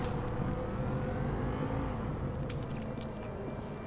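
A car drives in Grand Theft Auto V on PS4, its engine giving a steady droning hum and whir close up, with a couple of faint higher clicks toward the end and no voices.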